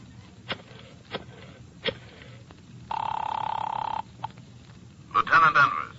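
Radio-drama telephone effect: a few sharp clicks of the receiver, then a steady electric ring lasting about a second, more clicks and a brief burst of chirpy noise, close and clear with no talk.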